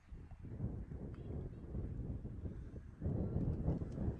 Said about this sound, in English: all of a sudden the wind has just picked up